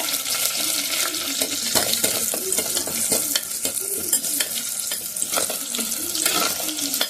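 Curry leaves fry in hot oil for a fish curry, crackling and sizzling loudly and steadily with frequent sharp pops and some stirring scrapes.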